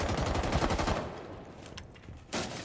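Rapid automatic gunfire crackles in a ranked Rainbow Six Siege match, a dense burst of shots for about a second, then scattered quieter reports and a final sharp volley, with no talking.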